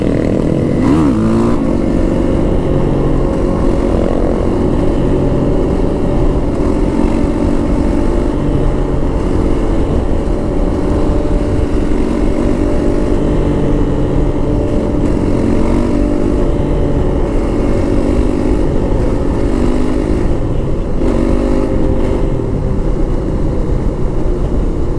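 Motorcycle engine droning steadily throughout a ride, a continuous close drone with wind rush and no pauses.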